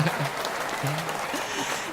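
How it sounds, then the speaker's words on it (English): Studio audience applause on a talk show, a steady broadband clatter of clapping that fills the whole clip, with some voices faintly mixed in underneath. "love the applause"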